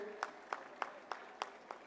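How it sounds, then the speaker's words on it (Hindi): Faint, evenly spaced claps, about six in under two seconds, sound at a ceremony welcoming kings and maharajas, thin and distant over a low hiss rather than a full roar of applause. "कृपया ताली बजा करके फिर से एक बार स्वागत करेंगे"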